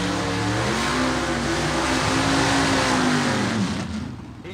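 Rob Walden's Dixie Twister gasser drag car roars loudly at Gulfport Dragway, a sustained, close engine drone with a rising pitch that holds for about four seconds and then begins to fade.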